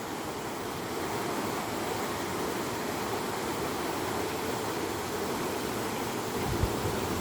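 Water of the River Mole pouring over a small waterfall on a Surrey Hills trail, a dense, continuous rushing roar that stays steady and fairly loud.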